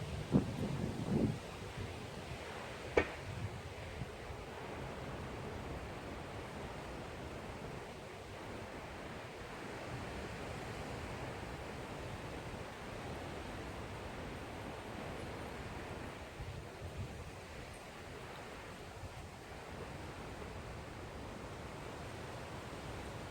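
Steady wind blows with a broad, constant rushing noise, faint and unbroken, with a couple of brief knocks early on.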